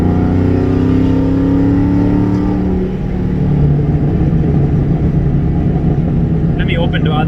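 A car engine pulls steadily in fourth gear on a country road, a loud, continuous drone with a shifting pitch midway and faint talking over it.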